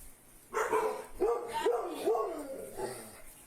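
Dogs put up inside a house bark in a few loud, close yips and barks spaced about half a second apart, mixed with whimpering, while people talk nearby.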